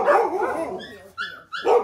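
A puppy in a kennel gives a few close, high yips and barks in quick succession with short gaps between them.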